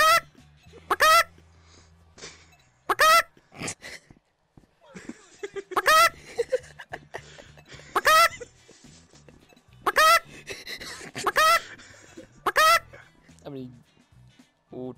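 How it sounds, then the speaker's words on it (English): In the video game Rec Room a chicken gives loud, honking clucks in sharp bursts every couple of seconds, with quieter voices talking between them. "Oh, chicken."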